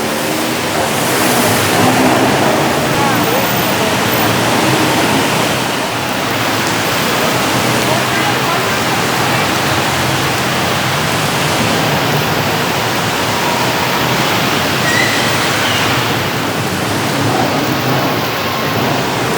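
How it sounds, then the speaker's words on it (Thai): Downpour over the street beside Siam BTS in Bangkok, a continuous hissing wash of heavy rainfall that holds steady and close, with no talking. "ตอนนี้ถือว่าฝนตกน้ำท่วมพี่น้องหน่อยนึงหรอก"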